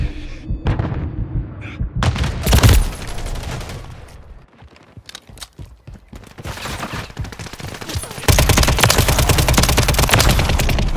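Loud bursts of automatic gunfire and heavy booms fill a Call of Duty Modern Warfare 3 multiplayer match, close rattling volleys with a short lull, then a dense sustained barrage.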